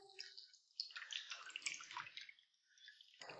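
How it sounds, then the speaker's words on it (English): A shaken blueberry cocktail with muddled blueberries is poured into a glass, giving a quiet, close splashing trickle in two uneven bursts with a short pause between them. "we're gonna give this bad boy a nice little pour"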